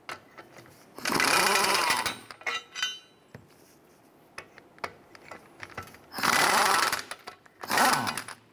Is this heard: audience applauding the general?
no